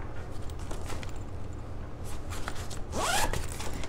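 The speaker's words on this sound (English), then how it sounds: "so then on this side you have a zipper." A zipper on a Béis travel bag gives one quick, close rasping pull near the end, after a quiet stretch of faint handling.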